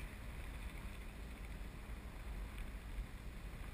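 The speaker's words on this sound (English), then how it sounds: "And it's windy." Steady wind rushes past during a turbulent powered parachute flight in a continuous low roar, faint and unbroken, with no voices.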